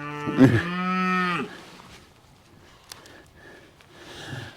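A Brangus cow on a ranch gives one loud, close, drawn-out moo, followed by quiet snorting and breathing.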